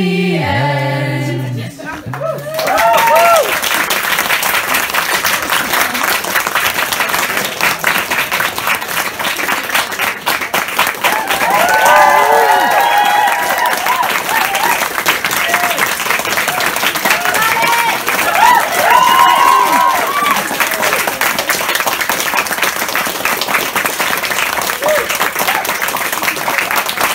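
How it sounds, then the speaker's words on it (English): Sustained applause and clapping from an audience at the close of a student Yule play, the ASNaC Yule Play, a dense steady roar of hands lasting throughout after a brief spoken line at the start. "another round of applause"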